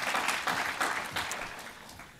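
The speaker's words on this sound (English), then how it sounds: "I think I need a round of applause for remembering every single one of those." Lecture audience clapping in brief applause, a quiet, distant patter of many hands that gradually fades, with no speech over it.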